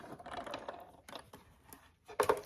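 A Big Shot die-cutting machine cranking paper through, giving a few short ratcheting mechanical clicks and grinds, close and quiet, with a sharper burst at the end.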